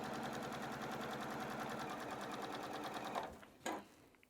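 A sewing machine runs steadily, stitching a mitered corner on a quilt. The whirring hum is close and continuous for about three seconds, then it stops and a brief clunk follows.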